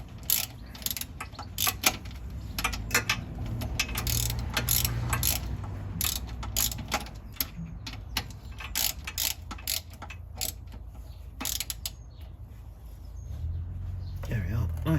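A ratchet clicks in quick repeated strokes as a transmission drain plug is tightened on a classic Fiat 500, with a steady mechanical rattle running close by throughout.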